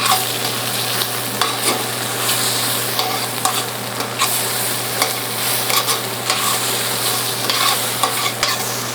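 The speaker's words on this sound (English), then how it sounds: "We'll stir those around in the olive oil on this side." Shallots and garlic are stirred in olive oil, a constant close sizzle with frequent spatula scrapes and taps against the pan over a steady low stove hum, no voices.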